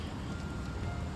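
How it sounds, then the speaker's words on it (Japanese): Soft, steady rain patters down at a winter campsite with a canvas tipi tent, a continuous fine hiss with light drips, fairly quiet and close, with no voices. "雨降ってますね。"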